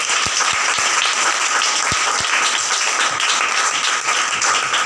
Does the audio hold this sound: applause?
yes